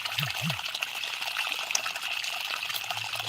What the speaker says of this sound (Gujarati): મોટર નું પાણી આવે ડોળું પાણી આવે છે